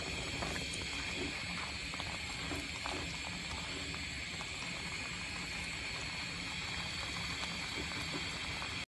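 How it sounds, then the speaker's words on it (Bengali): A khira mixture thickened with cornflour simmers to a boil in a pan, giving a dense, steady bubbling hiss with faint pops, close and even for the whole stretch, no voices. "কড়ার চারপাশে খুব সুন্দর করে বলক উঠে গেছে"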